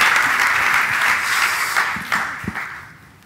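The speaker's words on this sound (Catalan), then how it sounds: "Moltes gràcies, un aplaudiment." Audience applause at a conference talk, a dense burst of many hands clapping that fades out over about three seconds, with no voices over it.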